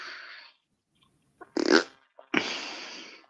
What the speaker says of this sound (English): it actually makes a fart noise when I get notification.